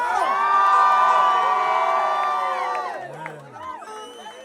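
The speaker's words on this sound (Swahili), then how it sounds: "Wapi kelele ya Samido?" A large crowd at a live stage event roars with cheering, shouting and whoops in response to a call from the stage. The noise is loud and sustained, then thins into scattered individual cries.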